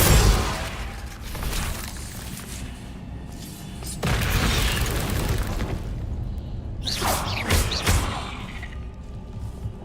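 Bombarda spells exploding in Hogwarts Legacy: several heavy booming blasts, each with a rushing, crumbling tail. They come at spaced intervals, with the last burst carrying a brighter, shattering crackle.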